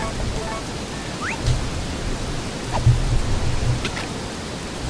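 Steady rain falling in Harvest Moon A Wonderful Life, a constant broadband hiss with a few soft thumps and faint chirps, heard alone with no talk.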